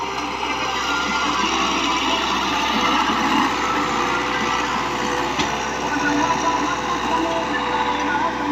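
Fiat 640 tractor engine working hard as it pulls a disc harrow across wet, soggy farmland in Punjab, a steady loud drone with continuous rumble and broadband roar, unbroken for the whole stretch.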